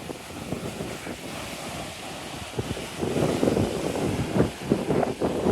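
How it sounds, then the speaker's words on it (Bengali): A strong seaside wind buffets the microphone with a constant roar while rough sea waves churn and crash underneath, growing louder and more turbulent toward the end. "এত পরিমাণে বাতাস, এখানে দাঁড়ানো যাচ্ছে না।"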